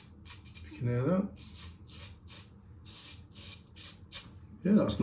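A Trevor Woodson RWL34 Inox straight razor scrapes across skin in soft, close raspy strokes, a repeated rhythmic rubbing with a couple of louder bursts of sound.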